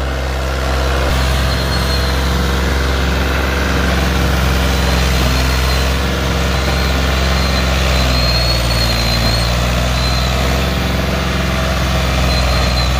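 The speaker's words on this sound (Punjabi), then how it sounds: "ਜਵਾਨ ਫਿਰ ਵੀ ਚਲਾ ਰਿਹਾ ਜੀ ਟਰੈਕਟਰ।" A tractor pulling a sugarcane trolley through a burning field, its heavy diesel engine running steadily and loudly for the whole stretch, close and continuous with no talk.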